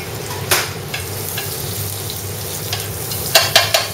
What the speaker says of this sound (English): heat up your pan, put in a couple scoops of your butter, drop of olive oil